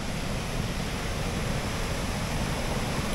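A favourite waterfall roaring as a dense, constant broadband rush close to the microphone, steady and loud throughout with no voices.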